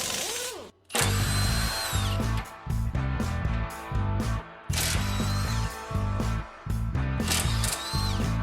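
An impact wrench hammers at rusty bumper bolts on a late second-generation Camaro, loud close bursts of rattling, ratcheting blows in repeated runs of about a second each, separated by short pauses.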